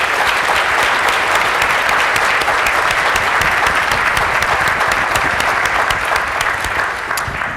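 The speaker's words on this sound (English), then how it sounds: "Let's applaud all of these phenomenal panelists." Sustained applause from a forum audience clapping for a panel of speakers at a chamber event on state questions, dense and steady throughout with no talking over it.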